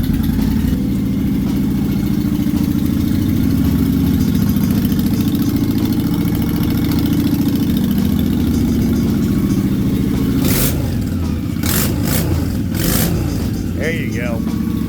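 A 2003 Honda VT Shadow 750 ACE motorcycle engine idles steadily while warming up after a choked start, a low continuous rumble held near and loud throughout, with a few brief clicks and knocks near the end.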